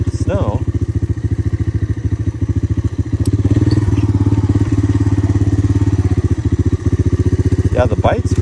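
A Honda ATC 250es Big Red three-wheeler engine runs steadily at close range, a continuous throbbing idle with faint clatter throughout, while voices talk over it.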